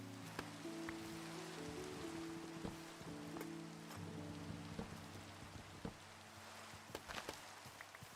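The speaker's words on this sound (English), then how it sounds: "this rain's kind of getting annoying" Rain falling in the Minecraft video game, a steady soft hiss of drops spread across the whole stretch, with a low music-like drone and a few faint clicks underneath.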